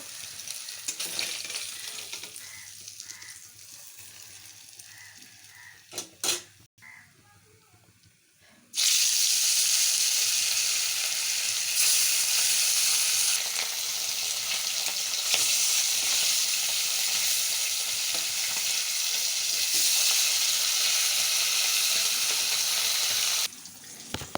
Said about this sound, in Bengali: বেশি ভাজবো না ইলিশ মাছটা, সর্ষে পোস্ত দিয়ে ইলিশ মাছটা করব।